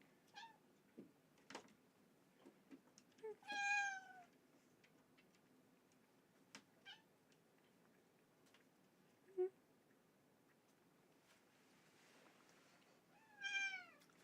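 A pet cat meows indoors in a quiet room, several drawn-out calls spaced apart over soft background noise with a few small ticks and clicks between them.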